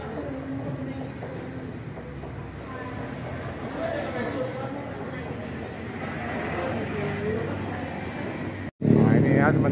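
Engine of a new Rosalia Indah Jet Bus running at a steady idle, a continuous low rumble heard up close, with a brief cut near the end before it resumes louder.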